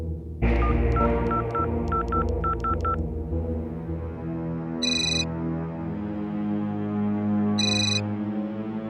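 A telephone keypad beeps through a run of quick dialing tones, then the line rings twice with two short electronic trills spaced a few seconds apart over a low background hum.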